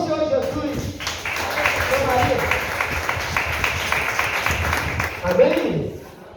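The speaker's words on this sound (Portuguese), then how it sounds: "Aplauda o Senhor Jesus." A church congregation applauding, a broad wash of clapping lasting several seconds that rises and fades at the end, with speech mixed in over it.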